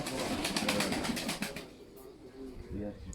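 Pigeons coo in soft repeated pulses amid rustling coop noise, with a voice talking partway through.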